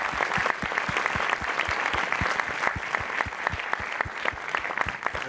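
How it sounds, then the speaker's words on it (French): An audience applauding steadily, many hands clapping in a dense, continuous patter that stays at a constant level throughout. "Donc vraiment, applaudissez-le bien fort, Francisco Bianchi."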